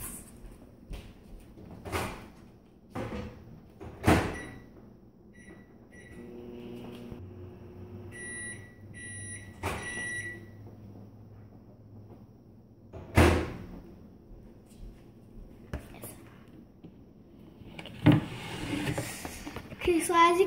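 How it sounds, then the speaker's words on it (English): A microwave oven melting butter for a watermelon Rice Krispies treat: a door clunks, a low hum runs for a stretch, and beeps follow before more door knocks, with a person talking in between. "But first you're gonna put this in the microwave for 25 seconds."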